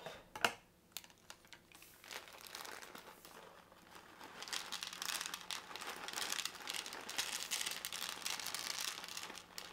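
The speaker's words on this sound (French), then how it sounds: "je vais ouvrir un paquet" A packet of diamond painting beads being torn open at the corner: a sharp tear at the start, then sustained crinkling and rustling of plastic with scattered small clicks, close and fairly quiet.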